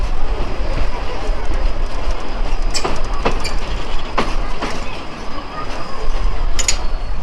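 A commuter train on the Lalmonirhat to Burimari line runs with a constant loud rumble and rhythmic wheel clatter, broken by a few sharp squeals from the wheels.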